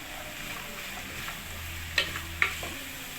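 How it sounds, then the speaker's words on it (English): Runner beans drop into a pan of minced meat sauce cooking without oil, bringing a steady soft sizzle and a couple of sharp clinks as a utensil stirs close by. "Next, we're going to be adding runner beans."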